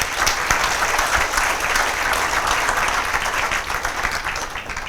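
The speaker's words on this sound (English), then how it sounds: "you all need to give yourselves a round of applause" An audience of students claps in steady, even applause, loud and close, holding through the whole stretch and tapering slightly toward the end.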